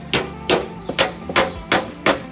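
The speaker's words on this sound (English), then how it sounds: "I'm going to take this smooth slapper and a little ball peen hammer." A ball peen hammer and a smooth body slapper tap out dents in a car fender, giving six sharp metallic knocks at a steady, even rhythm, close and loud, with no talking.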